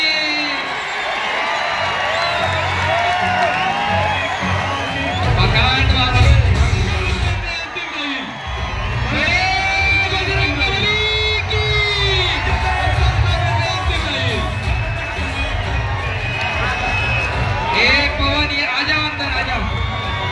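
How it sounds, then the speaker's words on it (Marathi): A crowd at a wrestling match in Bhosari, Pune, cheers and applauds in a loud, sustained roar with whoops and shouts, while an announcer's amplified voice keeps talking over it. "जरा टाळ्या करा त्याच्यासाठी"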